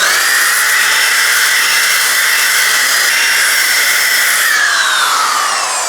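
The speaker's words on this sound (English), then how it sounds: "I'll just give you a demonstration on this sander without even doing any more to it." A rusty sander runs continuously at full speed in a workshop, giving a loud, close, steady whine with a slightly shifting pitch for several seconds.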